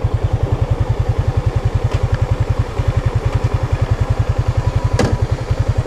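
Motorcycle engine running nearby with a fast, even chug of firing pulses, loud and steady throughout, with a couple of brief clicks but no voices.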